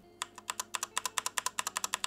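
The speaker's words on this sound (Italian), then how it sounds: "sentite qui ci sono dei Cherry MX rossi tattili" Fast, even keystrokes rattle on an XPG Summoner mechanical keyboard with Cherry MX Red switches, about twenty crisp close clicks in quick succession with no voices.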